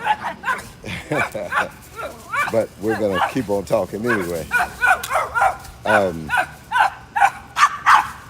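A neighbor's dog barks repeatedly in quick bursts, moderately close, mixed under someone talking continuously outdoors.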